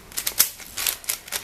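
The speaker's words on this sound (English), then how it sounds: "Just do a couple of turns on this cube." A lubed 5x5 puzzle cube being turned by hand, giving a string of quick, close clicky clacks in irregular bursts with no talking.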